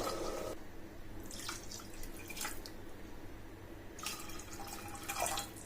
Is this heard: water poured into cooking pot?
yes